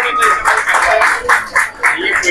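Clapping from the crowd at a school farewell and felicitation ceremony, several uneven bursts of hand claps rising and falling, fairly close and loud, with voices mixed among them.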